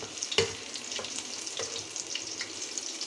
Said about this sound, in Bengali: পেঁয়াজ ভেজে নিলাম পেঁয়াজ অলমোস্ট ভাজা হয়ে গিয়েছে